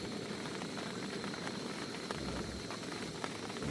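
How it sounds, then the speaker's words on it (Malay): Sweet potatoes boil in a pot at a cool hillside campsite, giving a soft, continuous bubbling hiss that stays faint and steady throughout. "Kita rebus ubi manis."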